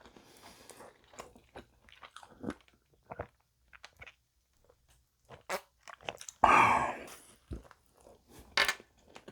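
Close, crisp bites into a McDonald's pepperoni pizza burger on a football-shaped soccer bun, followed by repeated wet chewing and crunching in bursts, with a loud bite around the middle.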